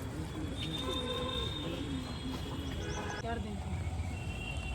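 Pigeons cooing on a rooftop in Amritsar, soft repeated coos and a few chirps over steady outdoor background noise, with someone talking quietly at times.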